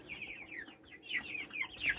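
Several hens cluck softly and irregularly, with short rising calls overlapping at close range over a low background murmur.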